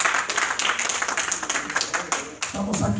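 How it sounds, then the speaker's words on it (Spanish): Church congregation applauding during an evening service, a steady wash of clapping throughout with voices mixed in. "¿O cuánto le dan ese aplauso a Él en esta noche?"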